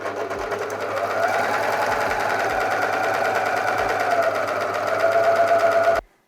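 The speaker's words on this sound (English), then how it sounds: "I'm gonna do this in an overlocker" An overlocker sewing fabric runs at a steady fast buzz for several seconds, a rapid mechanical whir that stops abruptly at the end.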